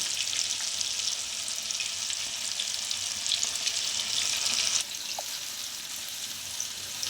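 Chicken pakoda pieces deep frying in hot oil, a steady close hiss and crackle of bubbling fat that drops slightly in loudness partway through, with no one talking.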